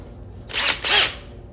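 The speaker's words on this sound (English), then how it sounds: "Just drilling holes in gas tanks." A power drill bores holes in a molded motorcycle chopper gas tank, whining in two short, close bursts separated by a brief dip, with quiet shop background around them.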